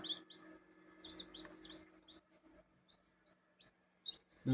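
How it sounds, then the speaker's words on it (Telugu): Newly hatched chicks in an incubator give faint, high peeping chirps, scattered short calls in irregular bursts over quiet background hum, with a louder thump at the very end. "ఫుల్ యాక్టివ్గా ఉన్నాయి కోడి పిల్లలు కూడా"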